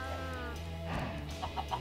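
Chickens in the Minecraft video game cluck in a few short, nasal bursts near the end, over a steady low background hum.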